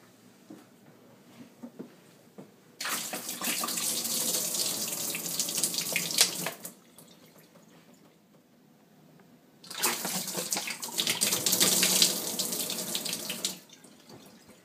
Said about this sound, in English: It's a quick way to empty your water bottles.